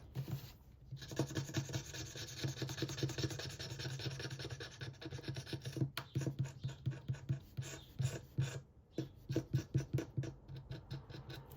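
A scratch card being scraped with a coin or nail in repeated short rasping strokes, close and fairly quiet, speeding into a quicker rhythmic scratching toward the end, with no talking.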